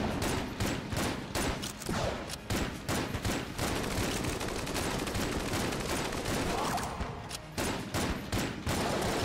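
Dense, continuous gunfire from the video game Enter the Gungeon, with rapid overlapping shots rattling steadily and only brief dips in intensity.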